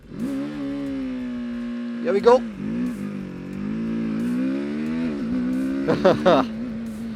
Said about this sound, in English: Launch control activated, open the throttle.